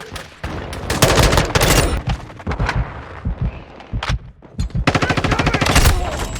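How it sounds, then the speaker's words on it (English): Call of Duty: Modern Warfare 2 (2022) guns fire in loud, close bursts of rapid automatic shots, broken by short pauses, with a final long sustained burst. "the sounds, the emotion you feel when you shoot the guns."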